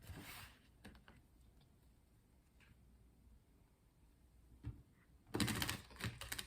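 Tarot cards shuffled by hand in a few quick bursts of riffling and slapping, loudest near the end, with quieter handling between and no talking.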